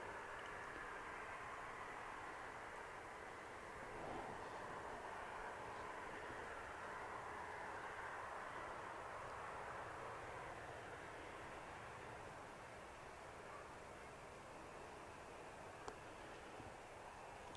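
A KLM Boeing 737-800 from Amsterdam touches down on runway 05 right at Manchester Airport. A steady distant jet roar holds through the clip at a moderate level, with no talk.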